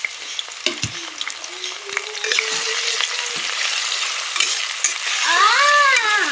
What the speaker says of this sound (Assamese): এইখিনিও মই অকণমান সময় পিঁয়াজখিনিৰে সৈতে এনেদৰে ভাজি ল'ম।